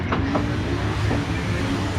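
A drift race car's engine, its exhaust not fitted, is cranked by the starter motor at a Drift Masters event in Hungary, giving a short, close whirring churn under a low mechanical drone.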